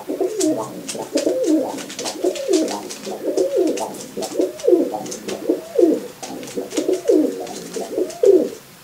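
A crow imitating pigeon cooing gives a series of soft, rhythmic calls close by, each a low warbling phrase resembling a pigeon's coo, about a dozen in steady succession.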